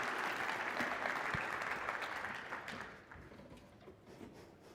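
Audience applause for a keynote speaker at the SAINTCON 2022 security conference, a steady crowd of clapping hands that holds for a few seconds and then thins and fades toward the end.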